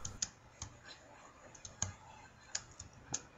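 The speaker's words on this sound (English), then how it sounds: "he's using one of those old keyboards that sounds more like a typewriter than anything else" Old computer keyboard with a typewriter-like action, tapped in sparse, irregular sharp clicks, about eight strokes with uneven gaps, close and fairly quiet against a faint background hum.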